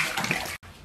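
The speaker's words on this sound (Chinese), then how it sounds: "然后锅里边稍微来点水" Water pours briefly into a cooking pot in a kitchen while pork is blanched, a bright splashing rush lasting about half a second before it abruptly stops, with only quiet room noise remaining.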